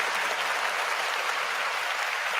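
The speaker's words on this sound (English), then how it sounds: "Clap it up for my man Dominic Cooney." Steady applause from an audience, a dense continuous wash of many hands clapping at even strength throughout, with no voices breaking through.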